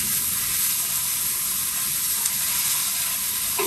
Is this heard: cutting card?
no